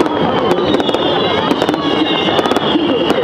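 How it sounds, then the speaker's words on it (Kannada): Firecrackers going off in rapid irregular bursts of sharp pops during a dragon boat race at a festival in China, loud and continuous over crowd noise, with a voice talking over them. "ಪಟಾಕಿ ಹೊಡ್ಕೊಂಡು ಹೊಡ್ಕೊಂಡು ರೇಸ್ ಮಾಡ್ತಾ ಇದಾರೆ."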